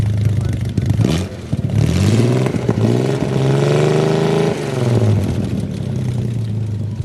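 A 1935 Jaguar SS 90 roadster's engine idles with a low, rumbly tone close by, its pitch rising briefly in the middle as it is blipped before settling back to a steady idle.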